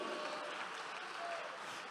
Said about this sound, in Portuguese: Aplauda o nome de Jesus Cristo